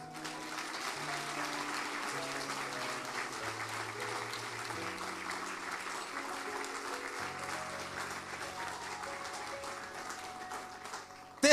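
Congregation clapping during a church service, steady applause running throughout beneath sustained held musical tones that shift in pitch, with a brief louder burst at the very end.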